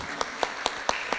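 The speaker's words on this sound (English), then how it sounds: "Big round of applause, please, for Raymond Ong." Scattered hand claps from an audience at a corporate event in Singapore, as a speaker is welcomed to the stage; about five distinct claps in steady rhythm, fairly faint and thin.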